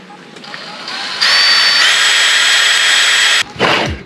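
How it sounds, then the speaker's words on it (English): A power drill bores starter holes into a Perception kayak hull for a trolling motor mount, running loud and steady for about two seconds after a quieter start, then stopping with a brief burst of handling noise. "I'm going to drill out some holes first."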